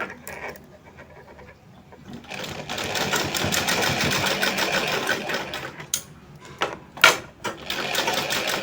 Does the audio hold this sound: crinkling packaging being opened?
no